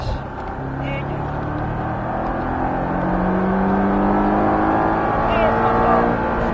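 Porsche 718 Cayman S pulling hard on the Bresse race circuit, a steady engine drone climbing in pitch as it accelerates, heard from inside with a voice talking over it.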